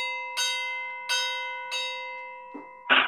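Church-bell-style chime strikes, three evenly spaced resonant tolls about a second apart with long ringing decay, followed by two sharper closing hits, clear and without talk.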